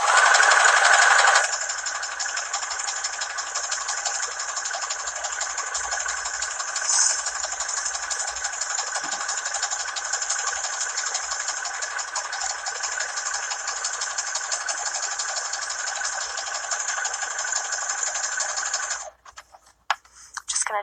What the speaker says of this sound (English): So I am just going to do a zigzag right along the edge here all the way around to prevent my fabric from fraying.